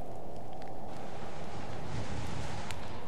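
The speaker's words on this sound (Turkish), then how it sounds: "Yalnız bakın sanırım rüzgarın sesi o." Steady wind in the horror game Kholat, set at the Dyatlov Pass, a continuous broad roar with a low rumble that holds evenly throughout with no break.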